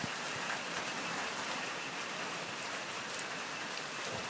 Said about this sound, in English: It's really pissing down.